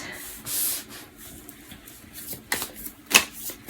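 Tarot cards being shuffled by hand during a reading, giving a few soft riffling and rubbing bursts, near and fairly quiet, with a sharper flick toward the end.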